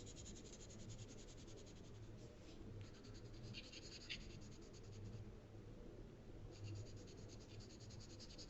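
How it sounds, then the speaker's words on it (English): A graphite pencil rubbed in small circular strokes across paper for value-scale shading, a steady soft scratchy hiss with gentle rhythmic swells, close and quiet, alone throughout. "start out with my circular motion, holding my pencil kind of in the middle so I'm not pressing too hard"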